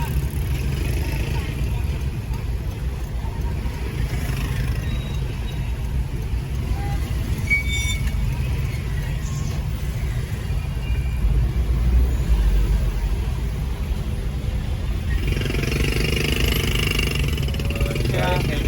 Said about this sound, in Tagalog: Traffic na talaga.